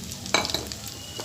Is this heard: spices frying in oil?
yes